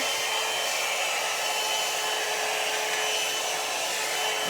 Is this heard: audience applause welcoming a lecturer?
no